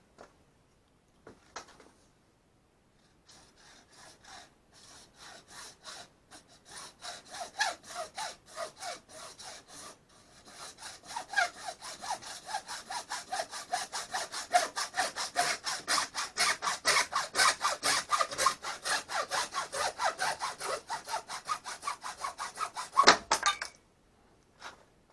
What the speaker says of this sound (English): we're just going to try and go for it with the hacksaw